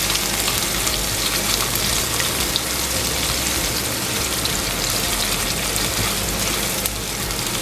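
Garlic, ginger and onion frying in hot oil for a tadka, a steady dense crackling sizzle that holds evenly throughout without pause, close by and with no talk.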